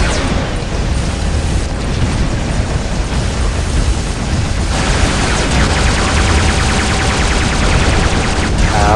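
Sustained gunfire and explosive bursts in the War Robots game, a dense continuous barrage of loud mechanical shots and booms throughout with no talking.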